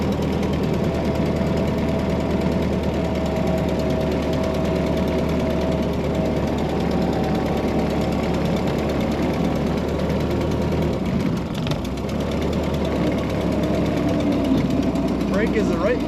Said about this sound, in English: Like most Model Ts, it runs really good, really simple, just puts along.